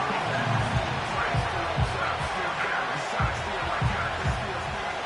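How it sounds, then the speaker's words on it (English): A stadium crowd at a football game roars steadily at full volume, swelling at third and long, with indistinct voices and faint thuds rising out of the dense wash of noise. "This crowd turning up the decibel level."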